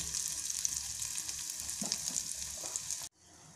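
Tomato chutney with finely chopped green coriander sizzles steadily in a pan over a low flame, a close, continuous frying hiss that cuts off abruptly near the end.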